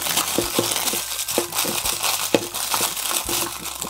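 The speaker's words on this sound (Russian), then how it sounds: "Убираем скотч и разворачиваем яйцо." Crinkling foil being unwrapped from a Kinder Surprise Maxi Frozen chocolate egg, a close, continuous rustle broken by sharper crackles.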